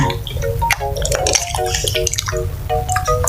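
Ripe bananas lifted out of a basin of washing water, with close, lively dripping and trickling water throughout.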